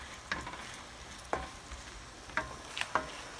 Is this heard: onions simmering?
yes